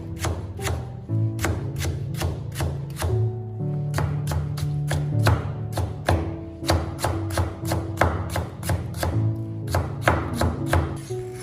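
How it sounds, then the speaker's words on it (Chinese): A knife chops steadily on a cutting board, slicing radish into thin strips with a fast, even rhythm of crisp, close taps and brief pauses between runs, with no talk. "然后再将萝卜切成细丝"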